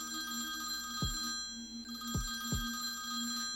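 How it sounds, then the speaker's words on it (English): A telephone rings inside a video game, the ringing tone steady and tonal throughout with a few low thumps breaking in, heard alone with no talking over it. "the phone starts ringing again"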